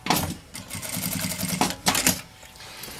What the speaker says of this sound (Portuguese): E aqui eu vou passar só uma costurinha, só pra segurar.